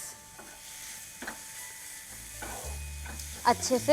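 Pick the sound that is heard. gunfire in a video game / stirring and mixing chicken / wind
stirring and mixing chicken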